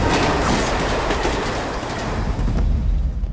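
A passenger train rumbles past at a station in a Telugu action film scene, heavy and loud, with a dense rolling roar and wheel clatter that eases slightly toward the end.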